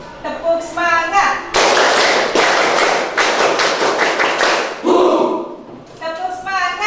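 Classroom of students standing and doing a rhythmic spirit clap, loud bursts of patterned clapping in quick sequences, with short spoken call-outs from the teacher at the start and end.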